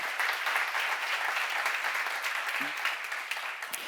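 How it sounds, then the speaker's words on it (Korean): Congregation applause at a church seminar: dense, steady clapping from a crowd filling the whole stretch at even loudness, with a brief low voice or thump near the end. "박수를 하세요."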